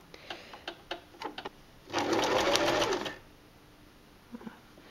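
Sewing machine stitching a fabric makeup remover wipe, a steady close whirring burst of about a second, framed by scattered ticks and clicks of the mechanism and handling before and after, no talking.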